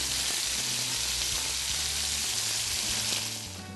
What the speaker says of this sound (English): We're going to brown this meat on both sides.